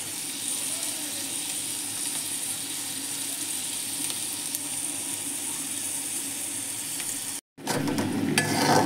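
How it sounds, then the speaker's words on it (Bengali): Shrimp with onion and green chili frying in a pan, a steady close sizzle with scraping stirring throughout, briefly cut off near the end before resuming. "এখানে আমি একটু চিংড়ি মাছ আর পেঁয়াজ কাঁচামরিচ একটু ভেজে নিচ্ছি।"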